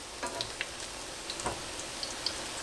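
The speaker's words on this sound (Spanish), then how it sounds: "Acá de este lado tenemos nuestras tortitas que se están cocinando, que se están friendo." Shrimp tortitas fry in hot oil, a steady close sizzle with scattered crackling pops throughout and no talk over it.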